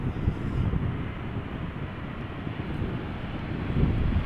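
Steady broadband roar of a Boeing 787 Dreamliner jet arriving at Amsterdam Schiphol in crosswind conditions, a continuous engine rumble that swells slightly toward the end, with no voices.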